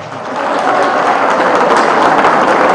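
A crowd claps steadily in a dense wash of applause that holds throughout, with no speech over it, at the 42nd anniversary celebration of the Bartolina Sisa confederation of peasant women in Bolivia.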